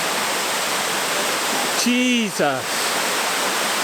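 A waterfall in Lydford Gorge roars steadily, loud and close, a continuous broadband rush that fills the whole stretch while a man briefly exclaims over it.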